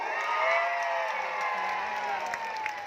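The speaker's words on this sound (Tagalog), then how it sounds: "Sigawan na may kasamang palakpakan" A live audience at a radio and TeleRadyo first-anniversary event in a mall in BGC keeps up a steady roar of shouting, cheering and whooping mixed with applause, loud and sustained throughout.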